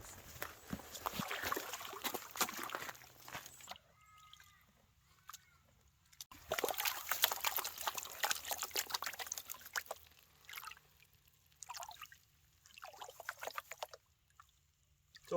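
Water swishes and trickles as a gold pan is swirled in clean drinking water, in bursts of sloshing with quiet gaps between them, close and moderately loud.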